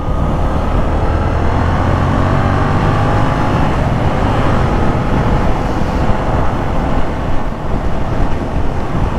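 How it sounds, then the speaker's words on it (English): A 2017 Yamaha FZ-07 motorcycle engine revs hard while riding, a loud, sustained roar with rising pitch and heavy road and wind noise, with no talk. "it sounds like the engine's screaming"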